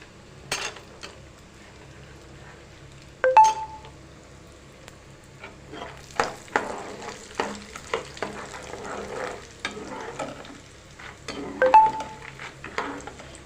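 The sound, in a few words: frying peanuts and almonds, stirring in pan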